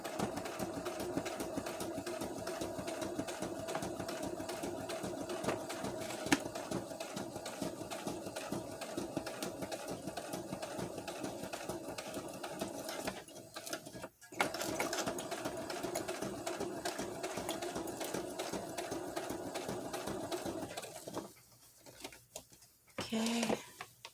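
A sewing machine stitches tags onto a journal cover, a steady rapid mechanical whirring and ticking that runs close and continuous, briefly pausing, with a person talking over it.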